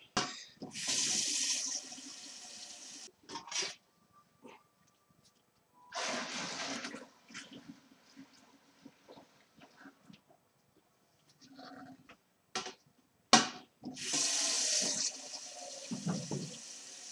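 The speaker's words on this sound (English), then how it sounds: "Top it up with cold water." Cold tap water runs in bursts to top up a home-brew fermenter of cooled IPA wort, loud rushing splashes separated by quiet gaps, with clunks and handling noises between.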